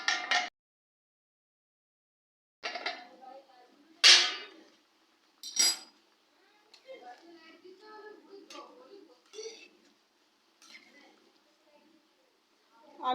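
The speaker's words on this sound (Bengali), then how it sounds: "আবার আমি ঢাকনা দিয়ে ঢাকা দিয়ে দেবো।" A lid clinks sharply onto a pot of chicken and potato curry on the stove, a couple of bright metallic knocks between stretches of someone talking nearby.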